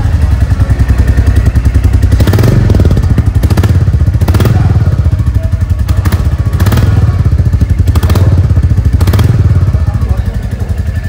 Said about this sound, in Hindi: ये है इंजन साउंड